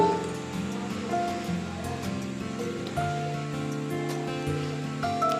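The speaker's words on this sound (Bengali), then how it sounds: "শাক আর ডালটা সেদ্ধ করার জন্য কুকারের মধ্যে আমি দিয়ে দিচ্ছি জল" Water pours into a pressure cooker holding greens and red lentils, a steady close gush with faint ringing tones from the vessel, alone without speech.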